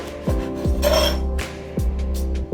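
A knife cutting the crusts off sandwich bread for prawn toasts: several sharp rasping strokes with a scrape and light knock as the blade passes through, close up with no talk.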